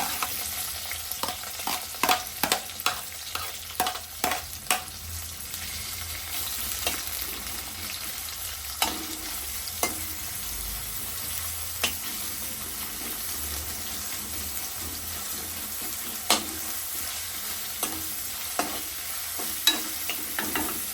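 Green chillies and onion fry in a hot pan while being stirred, a steady close sizzle broken by frequent sharp scrapes and taps of the spoon against the pan, with no talking.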